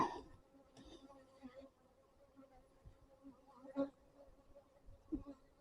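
A low, steady buzzing of many bees around a hive hums quietly throughout, with a few soft clicks and bumps close by.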